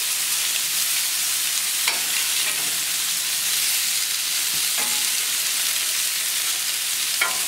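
Food browning in a pan with quails, grapes, Loupiac wine and honey alongside sautéed potatoes and ceps, giving a steady, dense, close sizzle with no break and occasional faint stirring clicks, no talk.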